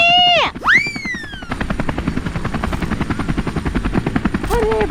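A helicopter in a village setting thunders close by with a rapid rotor chop, loud and continuous, after a brief rising whine at the start.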